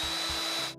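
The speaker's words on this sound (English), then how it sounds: "Now we're going to drill our second hole." A power drill bores a hole for a brass insert for an RC plane light, a steady close whine running nearly a second before cutting off abruptly.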